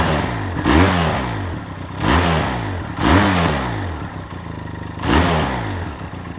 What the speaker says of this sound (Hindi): अब इसको एक बार स्टार्ट करते हैं।